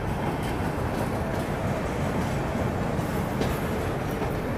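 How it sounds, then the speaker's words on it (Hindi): Humsafar Express running between Jammu Tawi and Tirupati, a long passenger train rolling past in a steady, loud broadband rumble with continuous wheel-on-rail noise and faint clatter throughout, no voices. "यहाँ पे अब जम्मू तवी से तिरुपति के बीच चलने वाली हमसफर एक्सप्रेस भी आ चुकी है"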